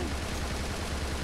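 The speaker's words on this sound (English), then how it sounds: "they're really shooting at this granny" Enemies firing guns in the Bullet Witch video game, a dense, continuous rattle of gunfire filling the short moment, loud and close with no voices.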